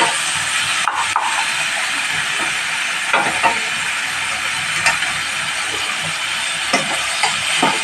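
Tomatoes with ginger-garlic paste sautéing in a pan, giving a steady close hiss and sizzle with occasional light scrapes and stirring clicks from a spoon throughout.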